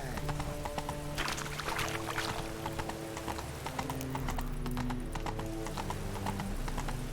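Roach the horse trots in The Witcher 3 video game, with a brisk, regular clip-clop of hooves close by over a bed of musical tones and faint ambience.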